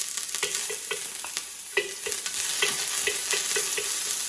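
Ginger sizzles in hot oil for a teriyaki tofu sauce, a close steady frying hiss punctuated by regular clicking scrapes of a utensil stirring in the pan.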